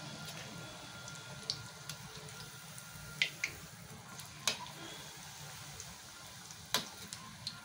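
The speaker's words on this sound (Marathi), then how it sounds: "भजी आपली चांगली तळून घेऊ आपण, आत कच्ची नाही राहिली पाहिजे।" Onion bhaji (kanda bhaji) frying in hot oil over a medium flame, giving a faint, steady sizzle with occasional soft pops and crackles and no talk.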